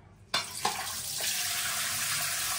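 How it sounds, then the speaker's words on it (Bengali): Water drains steadily through many small holes in the bottom of a container, a continuous close splashing rush that starts abruptly after a brief quiet moment and carries on evenly. "এই যে জলটা সব পড়ে যাচ্ছে, এর নিচেটা ফুটা ফুটা আছে অনেকগুলো"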